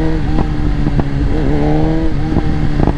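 A BMW M1000XR motorcycle in Race Pro mode, its exhaust crackling and popping in several sharp bursts over a steady engine rumble, loud and close.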